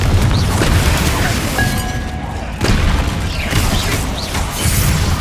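Confringo spell blasts go off in Hogwarts Legacy on PlayStation 5 Pro. The booms are loud and close, with whooshing bursts recurring over a dense, rumbling layer of combat noise.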